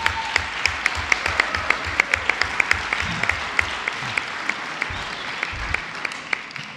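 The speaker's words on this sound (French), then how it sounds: "Je vous propose de l'applaudir une nouvelle fois." An audience at a French public assembly session on medical deserts applauds to congratulate a newly elected member of the Académie des sciences: steady close clapping with distinct sharp claps standing out, sustained for several seconds with no talking.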